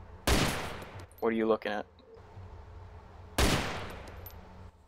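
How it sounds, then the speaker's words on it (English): Two sharp broadband gunshots ring out in the DayZ Breaking Point mod, one near the start and another about three seconds later, each decaying quickly, with a brief spoken line between them. "I hear the shots."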